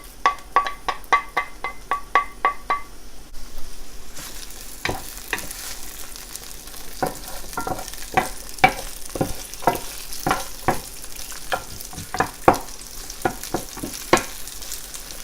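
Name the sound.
garlic, onion, ginger, peppers stir-frying in sesame oil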